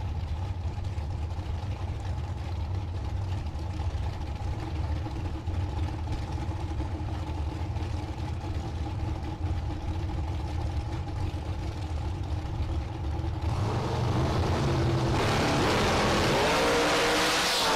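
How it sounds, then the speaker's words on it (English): A Polk dragster idles and rumbles at a drag strip in Minnesota, a steady low engine drone with a faint whine, then swells into a loud, harsh roar near the end as it launches. "Tucker Kanslar in that Polk dragster"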